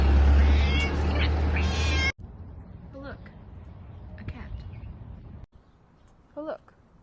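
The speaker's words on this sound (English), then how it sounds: "Oh look, a cat." A cat gives several short, faint meows against a steady background hum, with a loud noisy stretch at the start and quieter room tone afterward.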